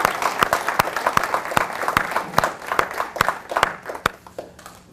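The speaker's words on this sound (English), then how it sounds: "let's get a round of applause for the students that are here today" Applause for scholarship students at an awards ceremony: a small audience clapping sparsely, with distinct, unevenly spaced claps standing out over a soft crowd murmur, fairly close.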